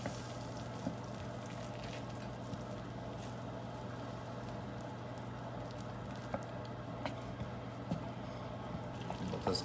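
Butter melts and sizzles in a sauté pan for a late-night stir-fry, a soft, steady crackle with occasional faint pops, no talk over it.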